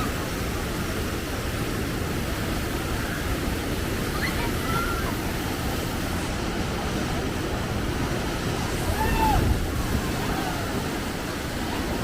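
Rushing water from the River Rampage rapids ride at Dollywood, a steady broadband roar heard from a nearby viewing spot, continuous throughout and swelling slightly near the end.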